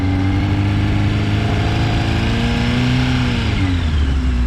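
Larger motorcycle engine at low speed with gentle throttle, a steady close rumbling drone that rises and falls smoothly in pitch, loud and continuous with no talking.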